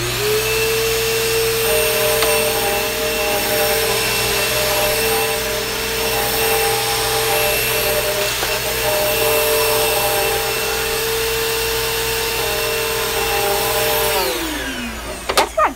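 A Bissell vacuum cleaner with a failing motor drones loudly and steadily for about fourteen seconds, with a strained tonal whine over a rough roar. The pitch then drops sharply as it winds down.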